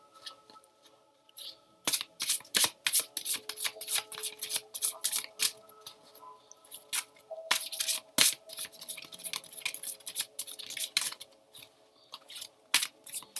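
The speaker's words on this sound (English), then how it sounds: "One more shuffle, please." A deck of tarot cards is shuffled by hand up close, giving dense bursts of crisp flicking and riffling slaps that come in uneven runs for over ten seconds, with no talk.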